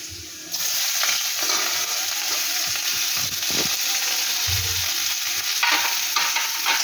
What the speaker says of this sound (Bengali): পেঁয়াজটা ভাজা ভাজা হবে একটু